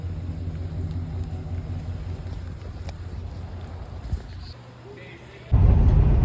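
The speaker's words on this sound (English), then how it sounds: "now I'm driving home" Car driving home on a rainy winter day, a steady low road rumble with wind noise inside the cabin, easing off toward the end before a loud burst of noise.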